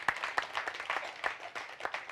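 Audience clapping at a Tamil talk, a thin scatter of hand claps with distinct sharp hits, fairly soft and somewhat distant.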